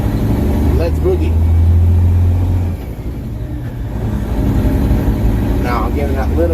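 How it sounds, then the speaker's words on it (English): Big truck engine pulling in the cab as throttle is applied, a steady low rumble that swells then eases midway, with a person speaking over it. "Now I'm giving that little bit of throttle."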